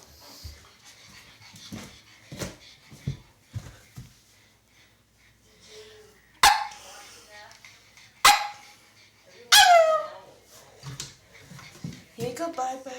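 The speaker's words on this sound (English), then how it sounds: "See, this is my beautiful puppy. Named Charlie, and he's a puggy" Pug puppy giving a few sharp, close barks and yips with panting and snorting between them, while a person talks softly nearby.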